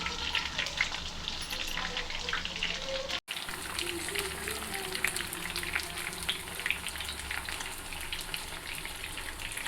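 Fish sizzling as it fries in a pan, with a steady, dense crackle and hiss that holds throughout and drops out only for a brief moment, close, with faint speech under it.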